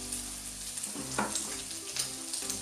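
Bacon sizzling in a frying pan, a steady close crackle and hiss with occasional pops and a scrape, no talk.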